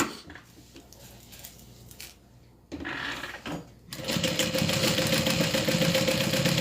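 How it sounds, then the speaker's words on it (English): A sewing machine stitches down a folded fabric accent piece. After some quiet shuffling, the motor starts and runs as a steady, loud, close whirring hum to the end. "we're going to go ahead and stitch that down"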